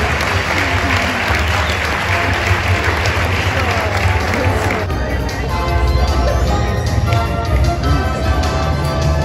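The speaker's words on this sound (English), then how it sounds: "another massive round of applause, please" Loud, sustained applause from a large audience at a Sportsman of the Year awards ceremony greets the winner, dense clapping holding steady throughout with crowd noise and some voices mixed in.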